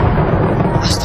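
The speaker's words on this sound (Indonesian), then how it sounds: "petir yang sangat besar menyambar." A loud, dense rumble of thunder rolls through, heavy and continuous, with a hiss rising near the end.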